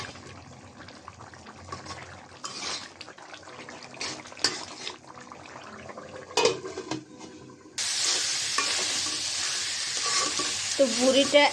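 Beef tripe and potatoes sizzle in a pan under intermittent scraping stirs, then a loud, broad rush of frying hiss takes over in the second half, with a few clinks near the close.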